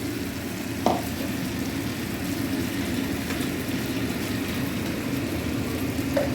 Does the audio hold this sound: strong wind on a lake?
no